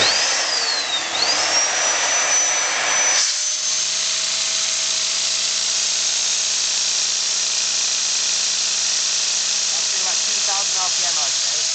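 A modified vacuum-powered LEGO engine with reworked valves and piston runs steadily, giving a continuous close whirring hum over a loud constant hiss of suction, with a brief rising whine near the start.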